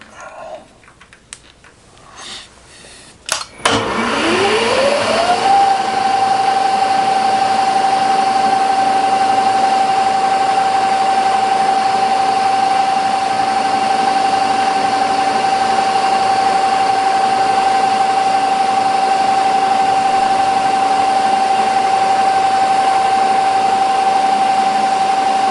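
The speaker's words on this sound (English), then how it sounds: "we'll try starting to cut another gear. Let's put it in gear." A home-shop automatic gear cutting machine starts after some clicking handling noises, its motor whining up in pitch within seconds and then running at a steady, loud, unbroken hum.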